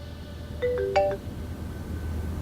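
A phone rings during a television drama scene, a short melodic ringtone of a few rising electronic notes heard clearly over a quiet room hum.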